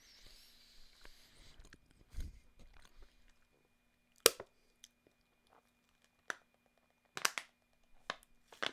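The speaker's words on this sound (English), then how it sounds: "Goldfish are so dry, but delicious." Goldfish crackers are crunched in a close, quiet mouth, with irregular crisp bites and chewing clicks scattered over several seconds and soft mouth noises between.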